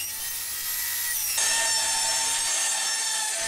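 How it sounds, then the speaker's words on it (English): A table saw with its blade tilted to 45 degrees rips wooden strips down the middle for French cleat tool storage, giving a steady high whine that deepens as the blade enters the wood and cuts continuously. "I could then adjust the height of my table saw blade and tilt it to 45 degrees"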